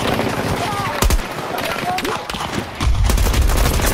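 Rapid machine gun bursts rattle through a shooter video game, close and loud, with sharp cracks and brief pauses between volleys, layered with game effects and background noise.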